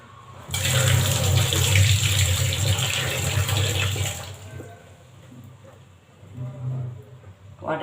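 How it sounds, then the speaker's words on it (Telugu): Brinjals (eggplants) are washed in a bowl or under a tap, giving a loud, close burst of running and splashing water that eases into lighter sloshing, then a few more splashes near the end. "రెండుసార్లు కడిగాక శుభ్రంగా చాలా మంచిగా ఉన్నాయి చూడండి వంకాయలు"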